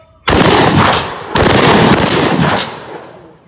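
Two loud, close blasts from a short-barrelled shotgun on a range, each a sharp crack followed by a rolling, decaying roar, about a second apart.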